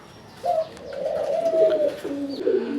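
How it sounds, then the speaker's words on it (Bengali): A pair of pure Gola pigeons coo close by, a few soft, rolling throaty coos in succession against a quiet background. "এটি হচ্ছে আরেক জোড়া গোলা কবুতর একদম হান্ড্রেড পার্সেন্ট পিওর জোড়া এবং পিওর গোল্লা কবুতর"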